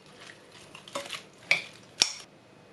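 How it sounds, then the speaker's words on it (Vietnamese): Seasoned ingredients are mixed in a bowl with a spoon, making soft scraping, then a few sharp clinks of metal on the dish, close and quiet, with no talking. "Sau đó mình trộn đều."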